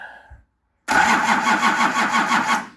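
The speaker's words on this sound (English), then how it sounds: "I'm going to start this truck" A truck's Nissan LD28 diesel engine cranks and catches abruptly, then churns loudly and steadily for about two seconds before cutting off; a brief faint noise comes before it.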